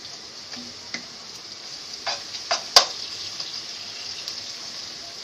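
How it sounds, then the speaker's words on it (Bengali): Onions frying in oil with a piece of cinnamon and two cardamom pods for chicken biryani, giving a steady soft sizzle with a few sharp clicks and stirring knocks near the middle. "পেঁয়াজটা একটু ভাজা ভাজা হবে"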